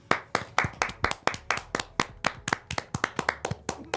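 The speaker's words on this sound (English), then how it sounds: "let's have applause, bro." Rhythmic clapping from a small group during a podcast episode, sharp close hand claps repeating steadily at a quick, even pace across four seconds, with no talking over them.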